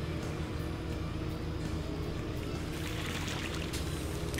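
A splashing farmyard fountain in the video game Farming Simulator 17 gives a loud, continuous rush of falling water that stays steady throughout, with nothing else standing out.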